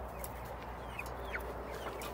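Chickens and roosters cluck faintly in a coop over a steady low background hum, with a few brief soft calls scattered through and no voices.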